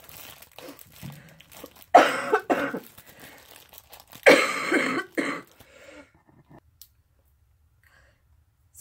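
Two or three loud, harsh coughs in close succession, followed by quieter throat-clearing sounds and soft rustling, then near silence.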